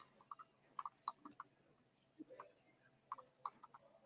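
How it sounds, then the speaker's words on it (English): Keys on a keyboard are tapped in short irregular clusters of light clicks, quiet and close, with brief pauses between bursts of typing. "I'm going to type it."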